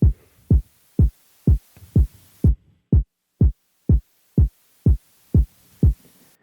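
Deep electronic kick drum hits in an FL Studio sidechain demo, twelve punchy booming thumps at a steady even tempo, each decaying quickly, alone with no talk.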